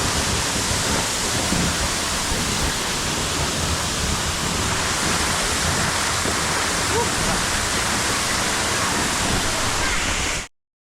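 Kalawaig Falls in Barangay Bayang, Lanao del Sur, Mindanao, roars as a steady, loud, broadband rush of falling water that fills the scene without break before cutting off abruptly at the end.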